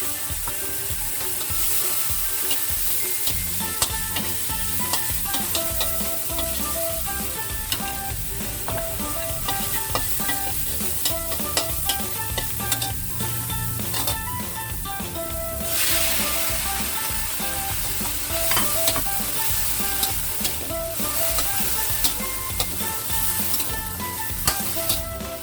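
Black beans and garlic stir-fry in a hot pan, a continuous sizzle and crackle broken by repeated scraping and clattering stirs, close and steady throughout.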